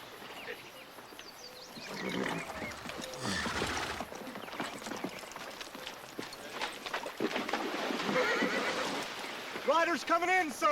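Horses whinny and neigh amid galloping hoofbeats in a film battle scene, with shouting voices mixed in and a sharp, loud whinny near the end.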